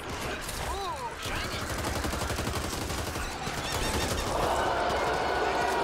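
Gunfire in the co-op zombie shooter Back 4 Blood, continuous rapid automatic fire with chaotic game effects mixed in, loud and dense throughout.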